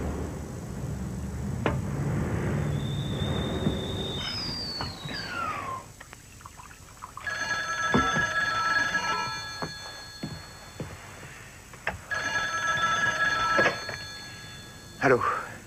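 A telephone rings in two repeated bursts of bright electronic trilling indoors, after a stretch of muffled rustling and running-water noise, with people talking around it.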